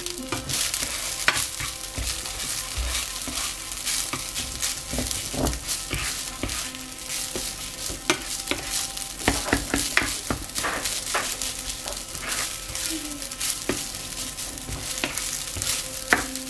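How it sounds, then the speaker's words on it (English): Rice stuffing for inari sushi, fried tofu pockets, is stirred and mixed in a bowl, giving continuous close scraping and sticky squelching with frequent small clicks of the utensil. "I'm gonna mix now."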